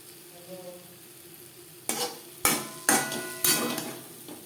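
Quiet at first, then okra hisses in a pan as four sharp stirring scrapes follow one another, each leaving a brief sizzle.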